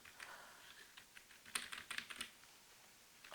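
Computer keyboard arrow keys tapped in a quick irregular burst of light, close clicks, quiet and alone, during design work on a hobby horse in Vectric Aspire CNC software.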